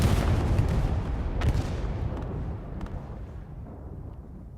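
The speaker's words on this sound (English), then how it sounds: "Throws a nice nade. Let's see where the nade lands." A grenade blast in Hell Let Loose, a World War II shooter, rings out as a loud deep boom at the start and then rolls away in a long fading rumble, with a few sharp distant cracks of gunfire scattered through it.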